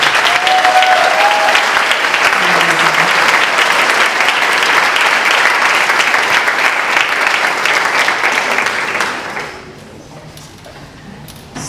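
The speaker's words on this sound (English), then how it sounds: "Go ahead and let's give them a little early applause." An audience at a Montessori school graduation ceremony claps in sustained, loud applause for several seconds before it thins and fades away.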